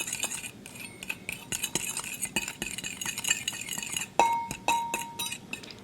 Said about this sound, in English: So now I'll mix this all together until it's well blended.